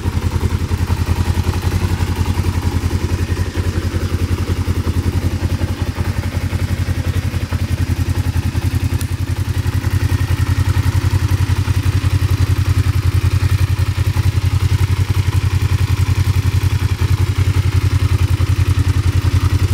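A 1991 Kawasaki GPZ 500S motorcycle engine runs steadily at idle, a loud close mechanical rumble with light clattering that holds constant throughout, no talking.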